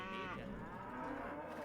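Cows moo in Age of Empires II, a single drawn-out, fairly loud bovine call that rises and then sags off, with no talking over it.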